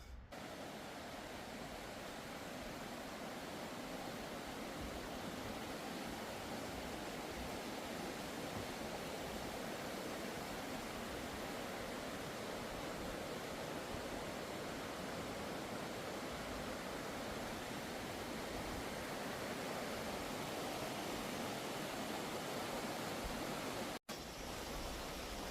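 A creek in a provincial park rushes steadily, a dense, even wash of flowing water that stays loud and constant throughout with no voices.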